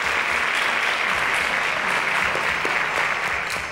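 A studio audience at a quiz show breaks into sustained applause, thick even clapping holding at a steady loud level from start to finish before easing slightly at the end.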